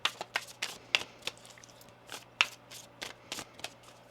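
Tarot cards shuffled by hand at close range, a run of quick crisp riffling snaps and flutters in an irregular rhythm, fairly quiet and with no talk.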